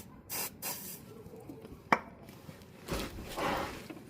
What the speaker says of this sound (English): I'm gonna tighten again and put some penetrating oil on the other side.